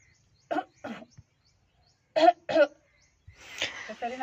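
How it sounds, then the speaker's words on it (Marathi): Four short, sharp coughs in two pairs, fairly close, followed by a noisier burst with a voice, maybe a throat-clearing. "खोकल्याचा नाव सांग ना आता खोकून तरी दाखव"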